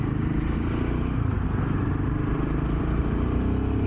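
A new Royal Enfield Himalayan motorcycle is ridden through Delhi traffic, its engine droning steadily and loudly with rushing road noise and no talk.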